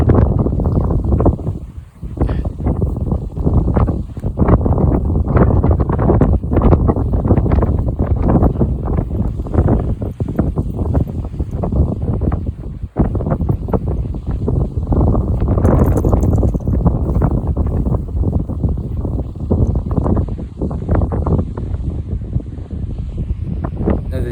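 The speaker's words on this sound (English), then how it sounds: "Apologies for the wind." Strong wind buffets the microphone beside a small Scottish lochan, a loud, continuous roaring rumble with constant gusty fluctuations and brief dips, no voices audible over it.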